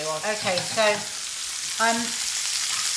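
Food sizzling and frying steadily in a pan in a home kitchen, a continuous bright crackle running throughout while a person speaks briefly over it.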